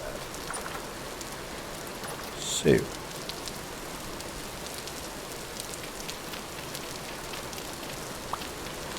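Steady rain patters continuously in the video game Vintage Story, a soft even hiss throughout, with someone briefly speaking over it.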